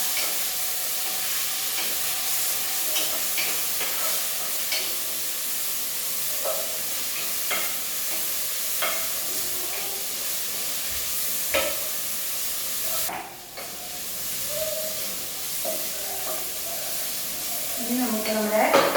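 Crushed ginger and garlic fry in a pan with a continuous close sizzle, broken by stirring scrapes and clinks. A person talks faintly over the frying.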